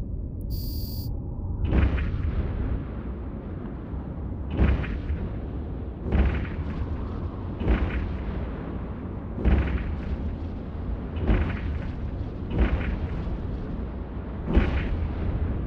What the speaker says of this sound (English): I suggest you fire your primary weapon.